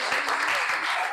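Audience applause at an Indonesian teacher-training session, a steady wash of clapping hands filling the short stretch at moderate volume with no gaps.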